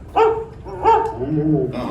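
An animatronic dog on Disney's Carousel of Progress ride at Magic Kingdom gives two short, close barks followed by a whining yip, with voices talking around it.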